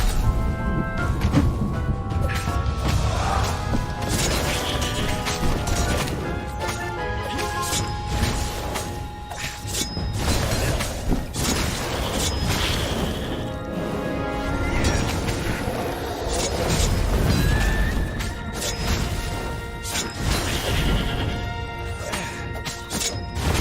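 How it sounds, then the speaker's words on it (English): Crashes and thuds pile up continuously while things get smashed in Stories: The Path of Destinies, dense impacts layered over music and game effects. "Smashing things was fun."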